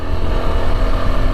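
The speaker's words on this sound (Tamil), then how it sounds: "அது வண்டி இன்ஜின் சவுண்டு" A Yezdi Adventure motorcycle engine runs steadily in third gear, a continuous low droning rumble with a slight wind-buffeted texture, loud and close with no voices.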